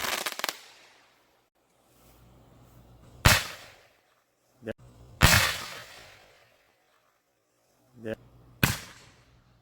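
MegaBanger Pro 5-inch artillery shell fireworks explode in about six sharp, loud booms in uneven pairs with crackling tails and quiet gaps between, and a voice speaks briefly between blasts.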